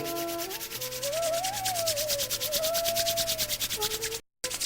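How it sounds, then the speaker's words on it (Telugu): Two palms rubbed briskly together to warm them during an eye yoga exercise make a fast, rhythmic swishing friction close by, with a faint tonal hum beneath and a brief dropout near the end. "2 అరచేతులు బాగా రుద్దండి."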